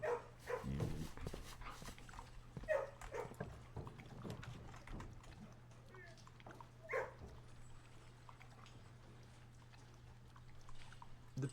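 A digital dog in the video game Blue Prince gives a few faint, scattered barks and whimpers over a low, steady hum. Everything stays quiet and thin.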